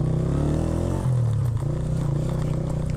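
A motorcycle engine revs as the bike rides down a road near a forest picnic spot outside Lahore. A loud, close, continuous droning hum shifts pitch as the throttle changes, and no one speaks.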